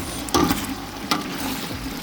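Onions frying in a pan with black pepper, MSG and salt, a steady close sizzle broken by two sharp bursts of stirring or scraping, with no talk.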